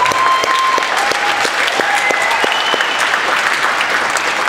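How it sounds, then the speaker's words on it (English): An audience at a sales club event claps steadily for a speaker, dense and loud, with a faint crowd murmur and a brief tone underneath. "So a big round of applause for Wes."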